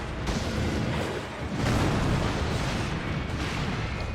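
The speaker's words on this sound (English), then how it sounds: "So she is freaked out by the firecrackers" Firecracker prosthetic tool bursts in Sekiro: Shadows Die Twice, used against a beast, loud crackling pops and booms in dense bursts with dips between, no talk.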